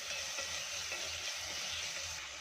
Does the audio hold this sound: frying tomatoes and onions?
yes